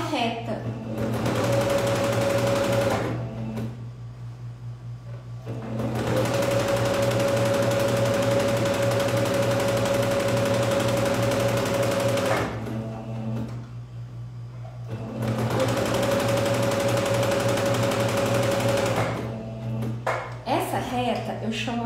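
A sewing machine runs a straight seam on a jacquard dress in three long, loud, steady whirring bursts, each separated by short pauses. Beneath the machine there is a constant low hum.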